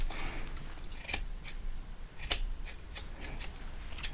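Barber scissors snip hair in a close, quiet haircut roleplay, making crisp metallic clicks that come in a loose, irregular rhythm.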